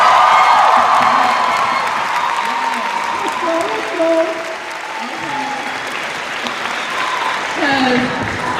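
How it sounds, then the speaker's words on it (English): Audience at a student cultural show applauding loudly, dense continuous clapping with cheers and whoops mixed in, voices rising over the crowd in places. "Can we get a round of applause for that?"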